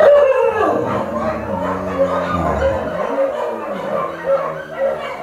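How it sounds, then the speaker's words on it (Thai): Several dogs howl together in long, wavering, overlapping cries with a few yips mixed in, loud and close, sustained throughout. "พวกที่นอนอยู่ก็เลยตื่นขึ้นมาหอน"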